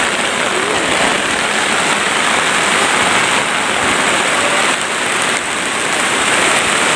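Heavy rain falls in the mountains, a dense, loud and steady hiss of drops on surfaces that continues without pause.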